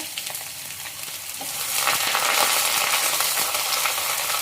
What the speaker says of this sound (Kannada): ಗೋಲ್ಡನ್ ಬ್ರೌನ್ ಬರೋವರೆಗೂ ಫ್ರೈ ಮಾಡ್ಕೊಳ್ಳಿ